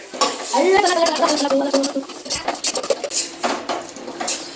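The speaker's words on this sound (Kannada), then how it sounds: "ಅಂತಂದರೆ ಮಸಾಲ ಎಣ್ಣೆಲಿ ಫ್ರೈ ಆಗೋವರೆಗೂ ಅಲ್ಲಾಡಿಸ್ಬೇಕು" Masala fried in oil for a pure vegetable biryani, stirred with a utensil in a pot: repeated scraping, clattering strokes over a faint sizzle, with a voice briefly heard at the start.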